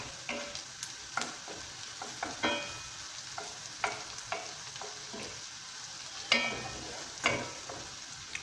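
Fish fillets frying gently in a pan, a soft continuous sizzle close by, broken by repeated scraping and tapping strokes of a utensil turning the pieces.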